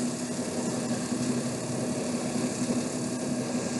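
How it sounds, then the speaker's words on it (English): Series electric motor running under load on a test bench at around two thousand RPM, a steady droning hum with a constant pitched whine, continuous and close, no speech. "this motor is sped up to"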